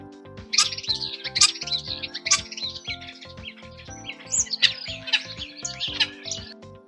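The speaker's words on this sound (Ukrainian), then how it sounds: "Як шпак співає? Послухайте." A starling sings a busy run of chirps, whistles and chattering notes, fairly close and continuous, with a low steady hum underneath.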